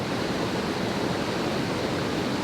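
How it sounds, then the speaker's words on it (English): Flood water rushing loudly under a bridge in Sunnyhurst Woods, Darwen, a steady broadband roar of swollen stream flow, close and unbroken with no voices. "We're obviously a lot of water coming out."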